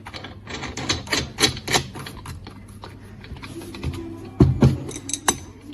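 Cutting disc being fitted onto an angle grinder stand, a rapid series of close metallic clicks, taps and ratcheting rattles, with a short heavier clunk near the end.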